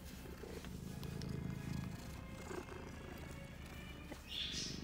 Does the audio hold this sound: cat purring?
yes